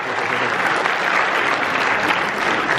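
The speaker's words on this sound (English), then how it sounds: "Applause after every question." Audience applause at a horror convention panel, a dense, steady wash of clapping from a crowd filling the room for a few seconds, loud and close.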